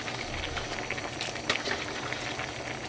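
A pot of rockfish stew with green onion and chili bubbles on the stove, a continuous close, moderately quiet simmer with small pops and gurgles and no talking.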